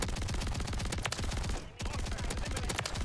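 Sustained automatic gunfire from the video game Call of Duty MW3, loud and dense rapid-fire bursts that keep going, with a brief gap in the middle before the shooting resumes.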